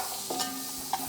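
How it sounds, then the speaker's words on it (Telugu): Sliced onions and green chillies fry in a pan for chicken curry with a steady soft sizzle, and a couple of brief stirring scrapes can be heard close up. "బాగా ఫ్రై చేసుకుందాం."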